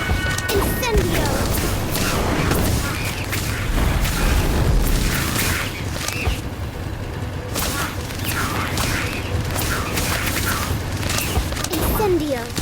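Fire spell from Harry Potter: Magic Awakened video game casting amid dense battle effects, with repeated booms, crashes and whacks layered over steady game music and voices throughout.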